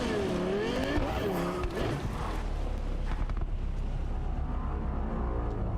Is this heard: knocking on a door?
no